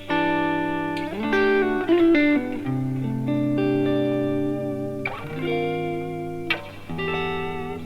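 Electric guitar played through an ODS Reverb amp preset, sustained chords and single notes ringing with overdriven tone and reverb tail, close and loud, no voices.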